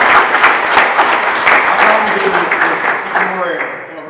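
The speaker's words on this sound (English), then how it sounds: "Big applause." Audience at a Startup Grind conference talk in Barcelona breaking into sustained applause, a dense wash of clapping that fades slightly toward the end with voices faintly under it.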